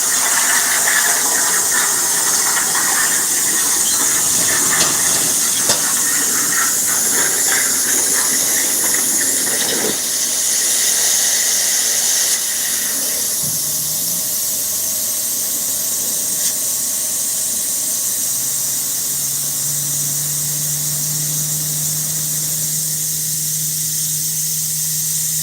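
A metal car skid plate being cut out in a shop: a loud, harsh hissing and squealing cut runs steadily for about twelve seconds, then drops away to a quieter background with a faint steady hum.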